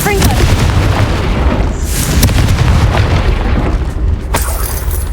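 Hogwarts Legacy Confringo spell blast in a game battle, a heavy booming explosion with dense rumbling low end that stays loud and sustained, punctuated by sharp crackling hits and debris bursts.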